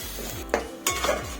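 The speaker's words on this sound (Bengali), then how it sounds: "এটা দিয়ে কষতে থাকবো।" Ground spice paste with chili and cumin powder is sautéed in a pan, with a soft sizzle under two quick utensil scrapes against the pan, alone.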